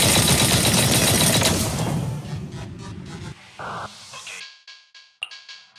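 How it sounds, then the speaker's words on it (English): Heavy cannon fire in the Zenless Zone Zero video game, a loud, dense barrage of booming blasts that rolls on for a few seconds, then breaks into scattered sharp impacts and whooshes as it tapers off. "That was the sound of a heavy cannon?"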